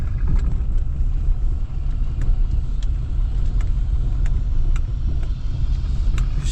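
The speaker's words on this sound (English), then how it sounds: "Train is moving some train cars around." On a CSX railroad, a train shunting cars makes a steady low rumble for several seconds, with scattered sharp metallic clanks and ticks over it and no talk.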